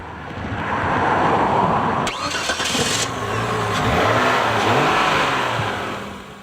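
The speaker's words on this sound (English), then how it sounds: "This is an inline 6-cylinder engine." An inline six-cylinder engine in a Renegade Verona cranks, catches and revs up loudly, then settles and revs again in strong, smooth surges close by.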